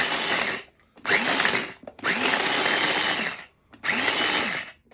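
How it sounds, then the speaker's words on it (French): A kitchen blender chops garlic cloves and ginger in loud high-speed bursts, about four of them separated by short pauses. "On a mis l'ail et le gingembre dans le mixeur et on mixe."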